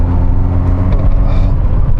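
A Vauxhall Nova's engine runs loud and close, a throaty low rumble with slight revving swells over two seconds, no voices.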